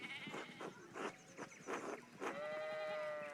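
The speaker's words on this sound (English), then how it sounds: "we need to get these sheep under control" Sheep in the video game Pentiment bleat in a string of several wavering cries, moderately close and fairly soft, ending in a longer drawn-out bleat, with no speech.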